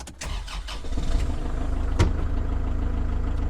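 Kubota L4060 tractor diesel engine cranking briefly, catching with a sharp surge and then settling into a steady, close, loud idle.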